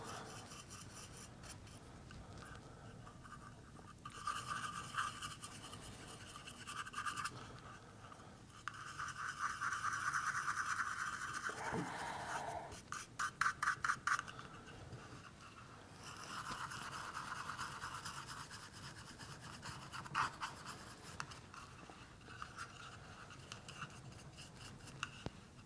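A stiff brush scrubs texture paint onto a desert game board in repeated rasping strokes that come in bursts with short pauses. The sound is close, dry and fairly quiet, with no talking.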